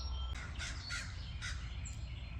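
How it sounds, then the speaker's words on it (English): A crow caws several times in a loose series, fairly distant and clear, over steady low outdoor traffic hum on a morning in a historic downtown, with no one speaking. "You can hear Mr. Crow in the background there talking."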